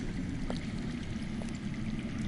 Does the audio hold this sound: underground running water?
yes